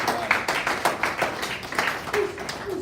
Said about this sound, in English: let's give a round of applause to everybody